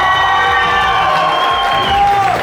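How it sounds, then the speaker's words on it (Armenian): Wedding guests on the groom's side clap and cheer together, a loud crowd roar with whoops over a sustained musical tone, continuous and close throughout. "հիմա փեսայի կողմնա ծափ էր տալի"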